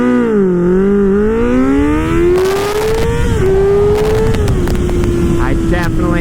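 A 2024 Kawasaki Ninja ZX-6R sport bike launches hard from 0 to 60 mph. The loud, close engine note climbs steadily in pitch, shifts briefly, then holds a sustained high whine.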